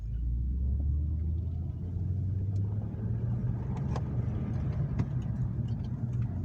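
A 2006 Acura TL with a six-speed manual gearbox drives in first gear, its engine giving a steady, low, continuous drone inside the cabin, with faint road rumble underneath.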